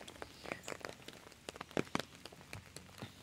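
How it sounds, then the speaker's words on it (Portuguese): Light rain falls in an empty Parque Malwee, with soft, scattered drops pattering on nearby surfaces. The sound is quiet and steady, and no one speaks. "mas hoje tá chovendo"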